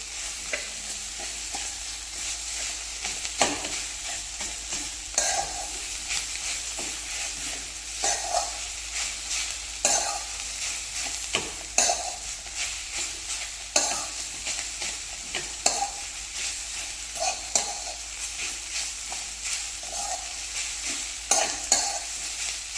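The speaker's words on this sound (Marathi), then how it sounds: "ठेचा मिरची शेंगदाणे मीठ लसूण हे सगळं व्यवस्थित असं मिक्स झालं पाहिजे" Chili thecha with peanuts, garlic and salt being stirred in a hot pan, a steady sizzle under repeated scraping strokes of the spoon, close and continuous with no talk.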